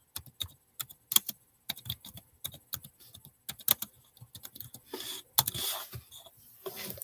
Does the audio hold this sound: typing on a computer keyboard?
yes